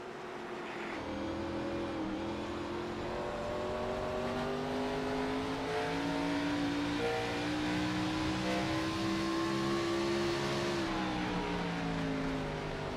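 Several race cars circle a sim racing league Xfinity Series race at Milwaukee in a video game, their engines droning steadily and close, pitches rising and falling together as they run nose to tail through the corners for the whole stretch.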